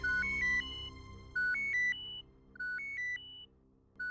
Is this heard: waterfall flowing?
no